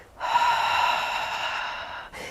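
A single long breath, drawn audibly and close through the nose or mouth during a Pilates mat workout, runs steadily for about two seconds before a brief pause and the start of another.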